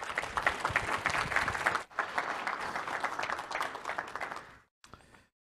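Audience applause fills a presentation hall at a chapter event, dense steady clapping from a crowd for several seconds before cutting off, then a brief faint spatter of claps at the end.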